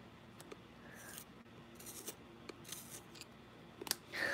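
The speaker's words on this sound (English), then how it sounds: "Pick up my colored pencils." Colored pencils being picked up and handled, giving a few faint, scattered clicks and light rubbing scrapes close by in a quiet room, with no voices.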